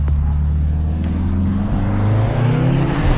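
A Mercedes A45S AMG being driven on a race track, its engine a loud, steady low roar close by that rises slightly in pitch as it accelerates.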